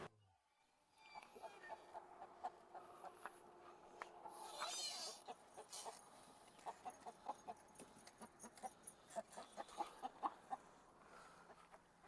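Hens cluck in short, scattered bursts against a quiet outdoor background, with a brief rustling swell partway through.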